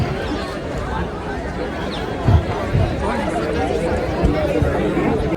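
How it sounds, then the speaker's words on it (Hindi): A large crowd chatters at a public meet-up with an actress and a film director, a dense, close babble of many voices with occasional louder calls and bumps. "गाइस इतनी ज़्यादा भीड़ हो रखी है यहाँ पे"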